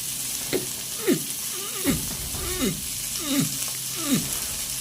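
Cabbage sizzles steadily in a hot pan as it is stir-fried for pasta, a constant hiss broken by about six soft, regular scraping strokes of stirring, heard close with no talking.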